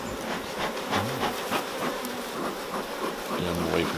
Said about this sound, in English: There's certainly plenty of bees in there, Keith.